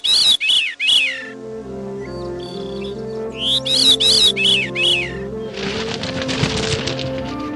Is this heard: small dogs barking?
no